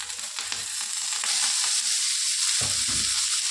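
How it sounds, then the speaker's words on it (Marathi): Green chillies roast in oil in a pan for a thecha-style dish, sizzling with a bright, crackling hiss while occasional stirring scrapes come through, close and continuous, with no talk. "चांगलं भाजायला आले ते मिरच्या. ह्याच्यात आता आपण तेल ओतून घेऊया."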